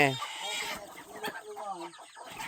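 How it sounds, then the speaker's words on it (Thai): A mother hen clucks in short repeated bursts at close range, with other farm sounds and some faint voices in the background. "เอาไก่แม่"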